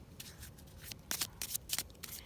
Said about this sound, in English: I'm just going to give these a shuffle.